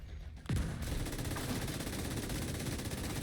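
Rapid sustained turret gunfire in the video game The Division 2, a fast loud rattle of shots starting after a brief quieter moment and continuing without pause, no talk.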